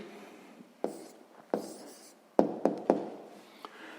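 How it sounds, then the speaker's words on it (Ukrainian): Pen writing an answer by hand on paper during a sixth-grade maths exercise, short scratchy strokes with a few sharper taps, close and quiet, no voices. "Записуємо тоді відповідь"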